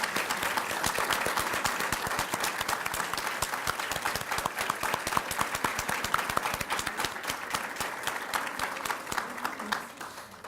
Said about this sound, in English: So if you guys could please stand up and just give them a round of applause.